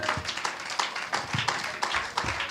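Church congregation clapping in praise, a rhythmic run of sharp, fairly close handclaps at a steady beat, with voices murmuring underneath.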